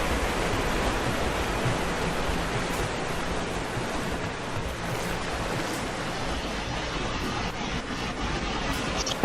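Steady, broadband rushing of water rising in a tomb in Rise of the Tomb Raider, an even, surf-like wash that holds constant for about nine seconds with no distinct breaks and no talking.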